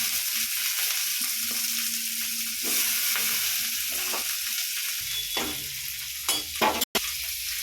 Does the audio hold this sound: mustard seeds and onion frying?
yes